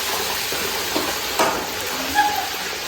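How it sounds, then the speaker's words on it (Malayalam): Marinated chicken, coated in turmeric, chili powder and salt, sizzling and frying in a pan, a steady soft crackle with occasional louder spits and stirring. "ഫസ്റ്റ് സ്റ്റെപ്പ് എന്ന് പറയുന്നത് ചിക്കൻ പൊരിക്കുക എന്നുള്ളതാണ്"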